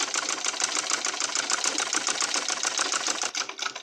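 A sewing machine stitches one-inch elastic for a crunchy fabric headband, a fast steady mechanical whirring and clatter running nearby and continuously, slowing briefly at the end.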